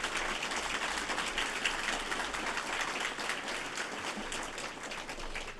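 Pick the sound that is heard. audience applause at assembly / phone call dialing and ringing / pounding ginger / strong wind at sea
audience applause at assembly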